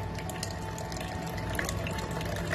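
A water filter tap runs with a weak, restricted flow, producing a steady close hiss and trickle of water that continues unbroken, with no voices.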